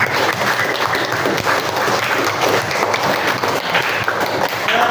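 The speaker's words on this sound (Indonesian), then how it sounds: "Kita beri tepuk tangan untuk yang ikut hari ini." Classroom students clapping together for those who took part in class that day, a dense, loud, continuous wash of hand claps sustained evenly throughout, with no talk over it.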